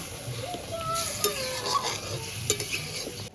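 Tilapia and seeded-banana curry is stirred in a frying pan, a spoon scraping and tapping through the thick mixture over a steady close sizzle, with a few sharper clinks along the way.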